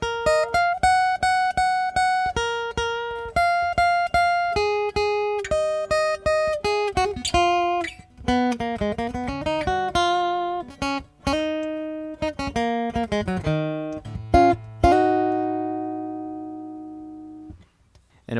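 An electric guitar plays the second half of a song's solo: a long run of clear picked single notes and bends in a lively melodic line, ending on a sustained ringing note that fades out.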